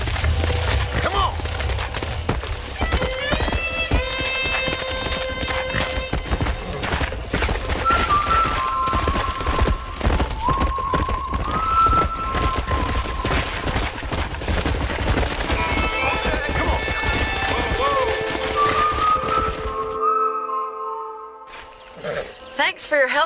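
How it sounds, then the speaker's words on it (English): Horse hooves clip-clop in a steady galloping rhythm in the Red Dead Redemption video game, with occasional whinnies and game music layered over the continuous hoofbeats before a brief drop-off near the end; voices speak over it. "We got some fine horses."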